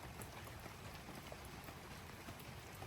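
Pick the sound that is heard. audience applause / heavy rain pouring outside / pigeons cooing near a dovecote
heavy rain pouring outside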